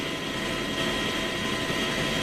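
Steady, loud engine roar from a helicopter flying over a coastal stretch of a road cycling race, a continuous broadband drone with no pauses and no voices.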